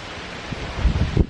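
Wind gusting at an outdoor bushcraft camp, a steady broadband rush with low buffeting thumps against the microphone that grow stronger toward the end.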